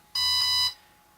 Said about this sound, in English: Now just hold the plane for a second while it does its startup sequence.